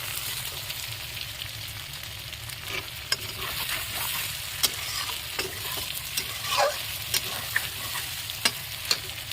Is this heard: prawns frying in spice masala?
yes